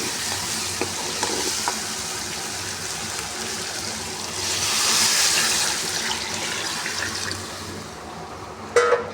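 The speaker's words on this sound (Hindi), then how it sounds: "2 किलो इसके अंदर 2 लीटर पानी में डालूँगी" Two litres of water pour into a pot holding fried chicken and vegetables for hot and sour soup, a steady hissing rush that swells midway and ends with a sharp clank.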